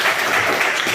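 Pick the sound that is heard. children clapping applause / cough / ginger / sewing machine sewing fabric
children clapping applause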